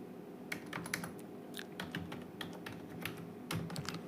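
Crisp key presses on a computer keyboard come in short uneven bursts with small gaps, close and quiet against a faint steady hum.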